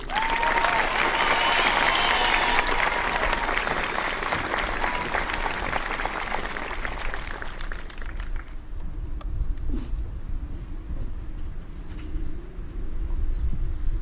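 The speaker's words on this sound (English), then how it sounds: "Please give a round of applause to Kaylee Coker." A graduation ceremony audience applauds loudly for a graduating student, dense clapping for about eight seconds before fading to quieter room noise and scattered claps.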